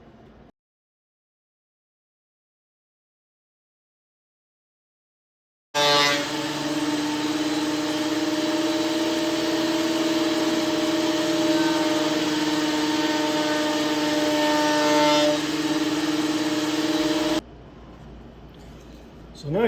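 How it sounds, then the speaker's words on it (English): A thickness planer feeds an oak board for a cutting board, a loud, steady whining roar with a droning hum that runs for about twelve seconds after a silent start, then cuts to a quieter background. "we'll run it through the thickness planer and get all this cleaned up"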